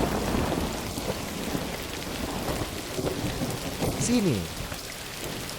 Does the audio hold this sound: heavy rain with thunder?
yes